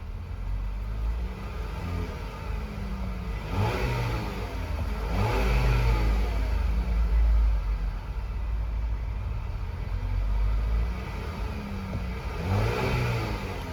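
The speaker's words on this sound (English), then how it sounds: "Really love the sound of that whine." A 2026 Chevrolet Traverse High Country engine revs up repeatedly from idle, each blip rising into a whining surge and then falling back, the engine close and moderately loud, with no one talking.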